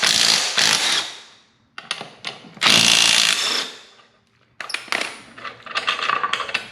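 Impact-style power tool working the brake bolts on a Can-Am Spyder front brake, loud rattling bursts of a few seconds each separated by pauses, close up with metallic clatter.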